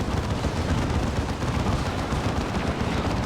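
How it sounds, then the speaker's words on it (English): A unit fires a shot in the video game Dawn of War 2: Retribution. Dense, continuous battle roar with rumbling low-end booms stays loud and steady throughout. "There's another shot."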